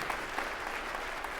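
A church audience claps together in a dense, steady burst of applause filling the room for a brief moment.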